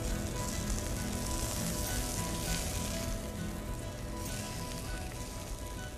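Invasive reef fish browning in curry in a hot frying pan, a steady dense sizzle and crackle of frying that holds constant throughout, close and alone with no talking.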